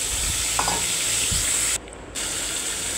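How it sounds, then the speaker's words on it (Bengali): Continuous close sizzle of a rohu fish head frying in oil, with a couple of soft knocks and a short dip in the hiss. "মাছের মাথাটা এবার ভেজে নেব, উল্টে পাল্টে লাল লাল করে ভেজে নিতে হবে।"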